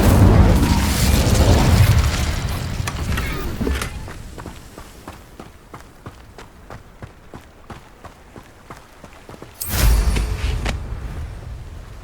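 Incendio fire spell cast in the Hogwarts Legacy video game, a loud roaring burst of flame lasting a few seconds, then quieter rapid footsteps, then a second short fiery blast near the end.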